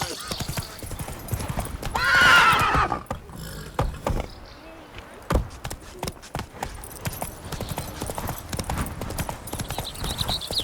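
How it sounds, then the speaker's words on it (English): Hooves clip-clop rapidly as a horse gallops in The Witcher 3: Blood and Wine, with a loud whinny early on and steady hoofbeats continuing amid other game sounds. "Come on, Roach. What's going on there? Giddy up"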